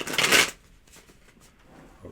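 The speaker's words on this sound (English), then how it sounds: "Give them a good shuffle here." A quick riffle shuffle of tarot cards, a loud rapid fluttering burst for half a second, then quiet with faint handling noise.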